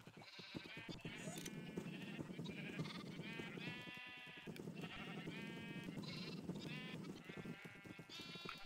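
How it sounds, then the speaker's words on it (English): Sheep in the Minecraft FTB Direwolf20 modpack bleat over and over, several overlapping calls rising above a steady busy background, with no speech. "Poor little sheeplings, as Kara would probably call them."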